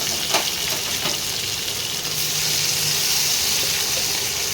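Chopped tomatoes sizzle steadily in hot oil for a tomato pabda fish curry, a continuous loud frying hiss with a few pops and stirring clatters near the start.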